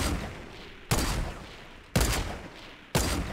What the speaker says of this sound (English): The guy's shooting at me from there.